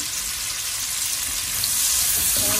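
Onions fry in oil in a pan with a steady, close crackling sizzle that thickens slightly toward the end.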